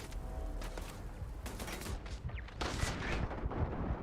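Turret gunfire in the Starfield video game, rapid bursts of heavy shots and booming blasts in dense clusters, loud and close with brief gaps between volleys.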